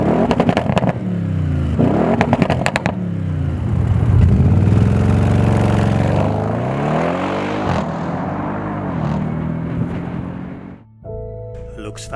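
An Audi RS6 fitted with an APR Stage 1 Plus ECU remap and a catback sports exhaust accelerates hard, its loud engine note rising and falling in sweeping revs through gear changes, with a voice talking over much of it.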